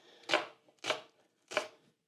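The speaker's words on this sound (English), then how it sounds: "you don't have to chop this onion perfectly right now" A knife chops an onion into rough pieces on a cutting board for Jamaican jerk chicken. There are three distinct, crisp chops at an even pace, close and clear, with no talking.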